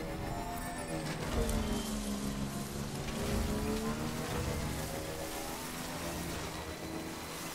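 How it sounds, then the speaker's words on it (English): Steady rain patters on surfaces in the video game Death Stranding, a soft continuous hiss with a low rumbling engine-like drone underneath. "Okay, it's raining."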